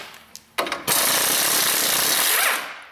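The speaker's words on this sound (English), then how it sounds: "So we're just gonna crack this ball joint loose." An impact wrench breaks loose a ball joint on a 2005 Pontiac Vibe 1.8, with a few sharp clicks and taps before one loud, continuous hammering burst of about two seconds that then fades.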